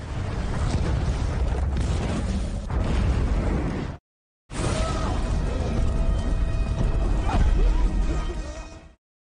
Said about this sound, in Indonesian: salah satu anggota kartel meledakkan terowongan itu